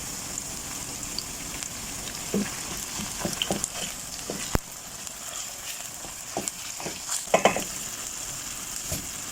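Ground chicken breast sizzles steadily in a hot pan alongside chicken cubes and garlic, a dense crackle broken by scattered louder spatters and stirring scrapes, with no talking.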